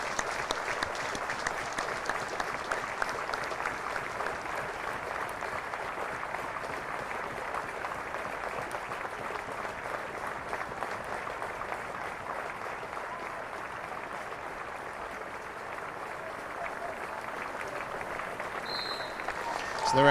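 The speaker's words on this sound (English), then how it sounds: "give that well-deserved applause to the Hereford fan" A football crowd at a National League North match between Leamington and Hereford applauds steadily for a long stretch, a distant, even patter of many hands with faint voices underneath.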